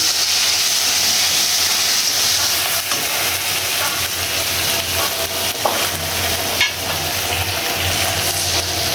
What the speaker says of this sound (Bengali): এক এক করে চিংড়ি মাছটা দিয়ে দিচ্ছি, একটু ভেজে নিব।